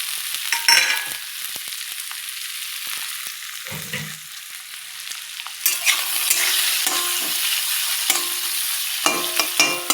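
Carrots sizzle in hot oil in a pan for fried rice, a continuous hiss broken by scraping stirs, growing louder and busier in the second half as the spatula works the pan.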